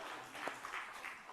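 Applause from a church congregation during a Sunday worship service, a brief, fairly faint patter of many hands.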